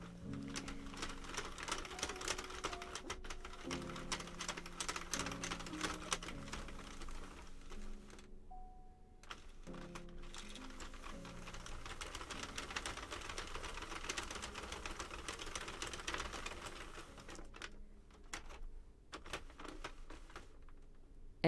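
A Sentro or Addi circular knitting machine is cranked with yarn, giving a fast, steady stream of close clicking and clattering from its pins and hooks, with short pauses partway through.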